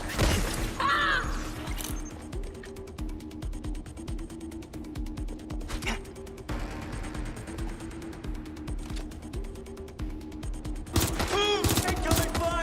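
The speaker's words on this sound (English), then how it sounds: "Incoming fire!" Gunfire in the video game Watch Dogs Legion: sharp shots and clattering mechanical rattles over a steady background hum, with louder bursts at the start and again near the end.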